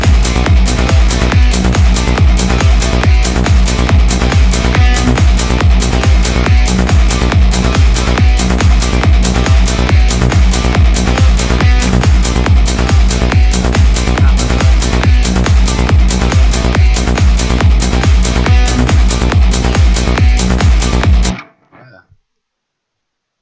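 A psytrance track with pumping acid guitars over a driving kick and bass at 140 BPM, loud and relentless with a steady four-on-the-floor pulse, then cutting off abruptly near the end.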